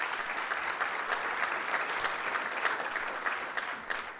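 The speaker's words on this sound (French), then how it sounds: "Je voudrais que vous applaudissiez également ma directrice de cabinet" An audience at a ministerial speech gives a steady round of applause, a dense even clapping that holds for the full few seconds.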